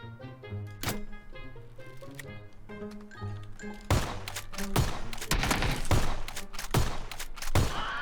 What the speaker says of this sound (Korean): 여기 총소리 났는데